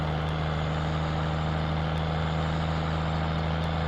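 Engine of an American tractor in Farming Simulator 17, a steady low idling rumble with a constant hum, running alone and evenly throughout.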